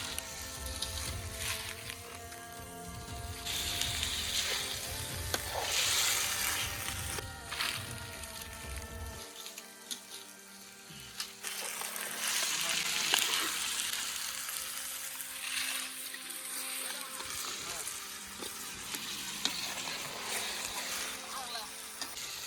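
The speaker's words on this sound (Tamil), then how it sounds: "லிவர் எல்லாம் கடாயில் போட போகிறோம்." Chicken liver, kidney and other offal frying and being stirred in a kadai in a village kitchen, a steady close sizzle with occasional scraping of the spoon, and talk over parts of it.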